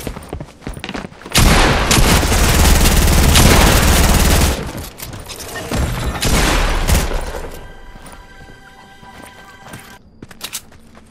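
Video game gunfire bursts in loud rapid volleys for several seconds, then continues in shorter, quieter bursts and scattered single shots toward the end.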